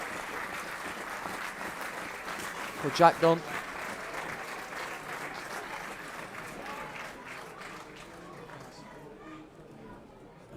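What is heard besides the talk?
football fans from both sides applauding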